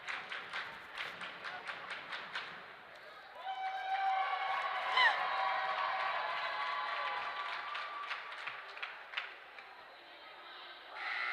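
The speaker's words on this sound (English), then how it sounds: "Our cheerleaders getting the crowd really excited." Crowd at a Holy Cross vs St. Mary's high school basketball game, with rhythmic claps giving way to a sustained swell of cheering and shouting, then fading back to scattered claps.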